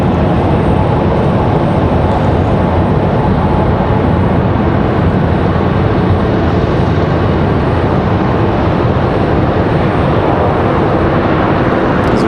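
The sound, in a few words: airliner departing, jet engine noise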